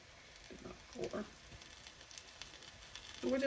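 Breakfast taquitos filled with sausage, egg and cheese fry seam side down in a little oil in a pan, giving a faint, steady sizzle with a few soft crackles and light bumps of movement near the start and end.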